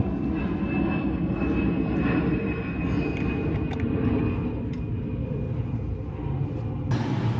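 An ARB dual air compressor, freshly mounted in a 3rd-gen Toyota Tacoma, runs with a steady, loud mechanical drone and hiss that holds throughout, shifting slightly near the end.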